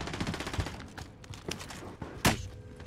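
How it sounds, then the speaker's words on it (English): Gunfire in Call of Duty: Warzone, a sniper picking at a player, with sharp cracks and bursts of shots spread unevenly over a few seconds and a strongest report near the end, mixed with game sounds. "Oh, I'm getting sniped at."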